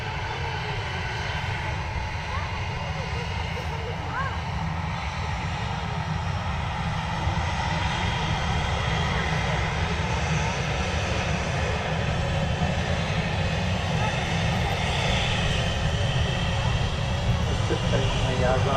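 Ryanair aircraft engines at Manchester Airport, a continuous loud broadband roar with a deep rumble held steady throughout, distant outdoor character.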